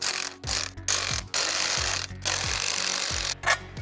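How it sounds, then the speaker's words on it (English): An impact gun works 1/2-inch hex head bolts out of the primary case on a Harley-Davidson Milwaukee 8 Road Glide, giving loud, harsh rattling bursts that start and stop several times, with brief pauses between. "I'm gonna use my impact gun to remove them."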